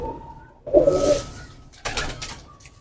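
An original Ferozpuri pigeon coos close by, a loud rolling coo followed by a second shorter call, with light background noise.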